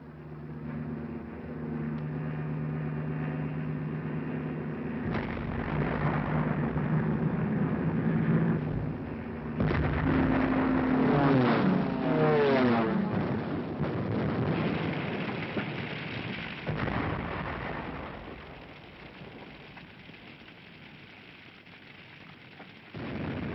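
Archival war-film soundtrack of the aerial bombing of Rotterdam, a continuous roaring rumble broken by heavy crashing bursts that swell and fade over about twenty seconds, with no speech.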